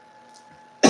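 A single short, sharp cough bursts out close to the listener at the very end, right after a quiet stretch.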